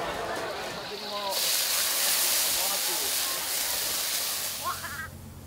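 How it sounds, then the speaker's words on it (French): Steam train running through Kota Kinabalu, Borneo, with a broad loud hiss of steam swelling in the middle, while voices talk over it. "un train à vapeur permet aux touristes locaux et internationaux de sillonner Kota Kinabalu"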